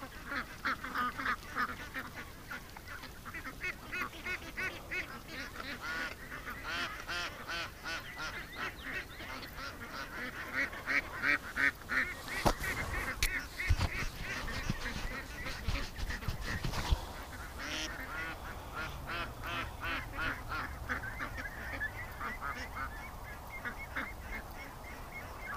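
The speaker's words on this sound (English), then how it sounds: "look at that for a row of ducks going home" A row of ducks walking home on a warm evening keeps up a steady stream of quacks and honks, moderately faint and spread out, with busier bursts of calling partway through.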